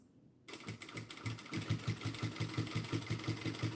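A sewing machine top stitching scrap fabric starts after a moment of quiet and then runs at a fast, steady rhythmic whir with regular needle thumps, close and loud, with no talking.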